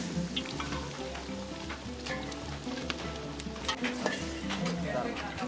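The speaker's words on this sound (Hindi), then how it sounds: "फिर वाजे ने खौलते हुए घी में कश्मीरी मिर्च से तड़का लगाकर ये हाक तैयार कर दिया।" Kashmiri chilies crackle and sizzle as they are tempered in boiling ghee for haak at a Wazwan wedding feast in Srinagar, a steady busy frying hiss with speckled pops under ongoing talk.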